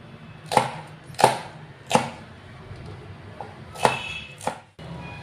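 A knife chopping onions finely for a paste while making restaurant-style malai paneer: about six crisp, evenly spaced taps on a board, close and clear, with a faint background hum.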